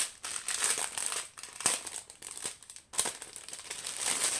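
Plastic packaging crinkling and rustling as a package of diamond painting supplies is opened, several bursts of close, crisp crackling with short pauses between them and no talk.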